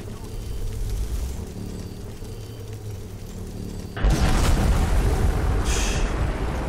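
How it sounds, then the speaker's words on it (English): A Dragonball spell explosion in the Skyrim video game: a steady low hum gives way to a sudden loud, broad roaring blast that keeps thundering for a few seconds. "Final explosion."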